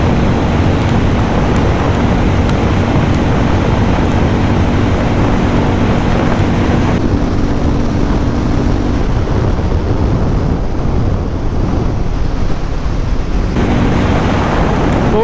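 A Hero Mavrick 440 motorcycle riding fast on a highway in sixth gear, heard mainly as loud, steady wind rush and road roar buffeting the microphone throughout.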